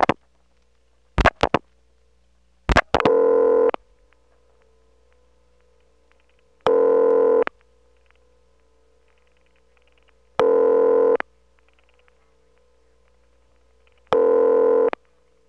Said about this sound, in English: Having dialed 3-7, we're on the Drake incoming selector, and you do hear the signature reorder.